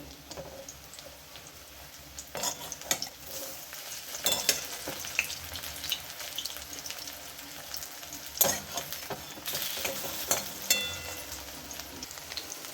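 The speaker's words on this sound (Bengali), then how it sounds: "বড়ার এক সাইড ভাজা হয়ে গেছে এই উল্টো দিকটা ভাজা হয়ে গেলে নামিয়ে নেবো" Oil sizzles and crackles steadily as agati (bok) flower fritters fry, with occasional sharper pops and a few clinks of a utensil.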